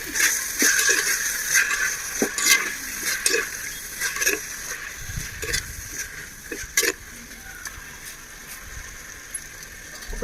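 Green chillies and tomatoes sauté in a pan for a chicken biryani masala, with a bright crackling sizzle under repeated scraping and stirring strokes and the odd clank of the spatula.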